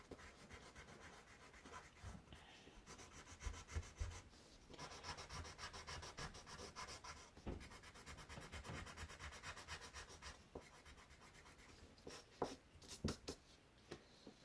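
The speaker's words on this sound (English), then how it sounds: "you go back to the blender pencil and you blend things out once more" A blender pencil rubs and scrapes over grey paper in a colored-pencil landscape drawing, giving a faint, close, continuous scratchy whisper with small irregular strokes and brief pauses.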